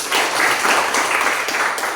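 A classroom of students claps together in a full, close burst of applause lasting the whole moment, with no talking over it.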